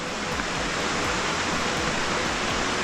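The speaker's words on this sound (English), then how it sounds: "А вот он и первый водопад." A small, narrow but powerful waterfall in the Ayusai tract roars steadily at close range, a dense unbroken rush of falling water with no other sounds.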